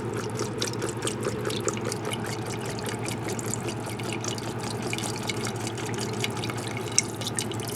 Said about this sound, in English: Pour that beef broth in.